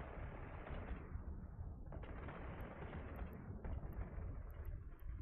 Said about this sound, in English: We are going to shoot.